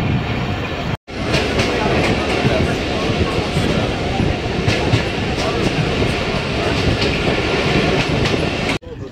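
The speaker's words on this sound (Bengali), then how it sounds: "আমাদের ট্রেনটি এখন ছেড়ে দিল।" A passenger train pulls out of Faridpur station with a loud, steady rolling rumble and rhythmic clickety-clack of wheels on the rails, heard from inside the carriage.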